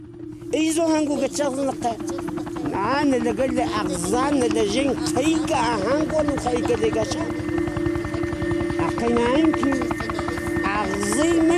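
A helicopter's steady rotor drone and engine whine run throughout, loud and close, while people talk over it.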